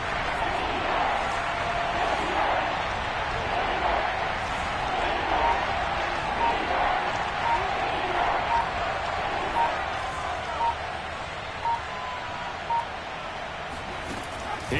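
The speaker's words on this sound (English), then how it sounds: "The crowd getting into it as we come up on a big 3rd down." A Madden 22 football stadium crowd roars as a dense, steady wall of cheering and noise throughout, with a commentator talking over it and faint repeated electronic beeps.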